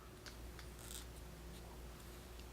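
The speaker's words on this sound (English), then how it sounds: "you take your scissors and you just simply cut it in a round circle." Scissors snip around a paper sticky note to cut it into a circle, making quiet, close, repeated crisp cuts at an irregular pace over a low steady hum.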